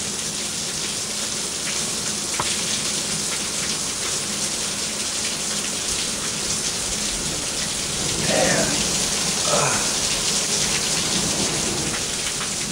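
Steady rain pours outside in a dense, even hiss over a low rumble of thunder, with a brief faint voice or call breaking through near the end.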